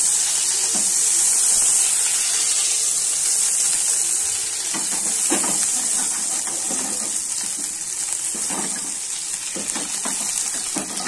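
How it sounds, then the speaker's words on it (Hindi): Butter melts in a hot pan for tomato soup, giving a steady bright sizzle and hiss throughout with occasional soft stirring scrapes, close and continuous with no talking. "बटर को हम मेल्ट होने देते हैं।"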